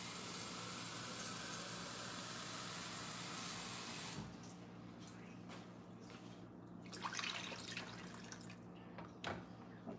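Water poured onto two cups of uncooked rice in a cooking pot, a steady rushing pour for about four seconds that gives way to quieter trickles and drips, with no talking.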